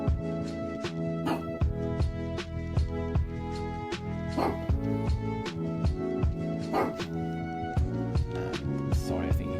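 A dog barks faintly in the distance, a few scattered barks that sit beneath steady, louder video game music.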